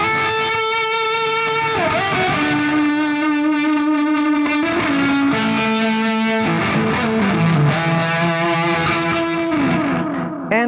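Electric guitar solo through a Harley Benton StompControl 4 ISO pedal setup, with fuzz distortion, reverb and delay: sustained, bending lead notes with echoing repeats over a dense, saturated tone, loud and continuous, no talk.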